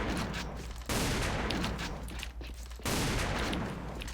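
A Kar98k rifle fires in a video game: loud, booming shots, with two sharp blasts that each ring out into a long, dense rumble and echo.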